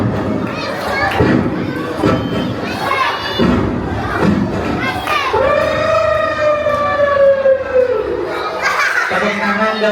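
At an elementary school Maulid celebration, a voice imitates an elephant's trumpeting with a drawn-out, rising and falling call, while a crowd of children shouts and cheers loudly before and after it.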